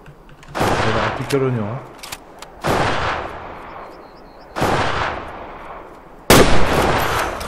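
Hunting rifle shots in Way of the Hunter during a wild boar hunt in Transylvania, four sharp loud reports spaced a second or two apart, with someone speaking briefly between them.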